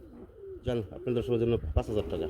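Pigeons in a crowded pen at a sale, giving close, repeated throaty coos in short rolling bursts that overlap with one another.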